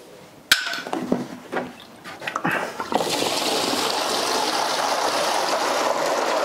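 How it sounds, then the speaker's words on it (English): A pressure washer with a mud sucker attachment starts up after a few clattering knocks and thumps, then settles into a steady, loud rushing of pumped water in a garden. "start the pressure washer up"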